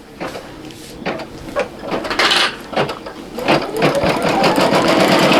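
A Brother single-needle embroidery machine stitches eyebrows and eyelashes onto a towel, its rapid mechanical whirring and clicking building up from a few starts into a steady loud run, with no voices.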